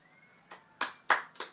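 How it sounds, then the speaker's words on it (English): A few sparse hand claps from a small live podcast audience, four separate soft claps spaced about a third of a second apart, quiet and without any crowd roar. "Let's give a round of applause"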